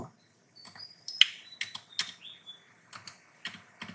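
Typing an application number on a computer keyboard: scattered crisp key clicks in irregular bursts, close and fairly quiet, against near silence.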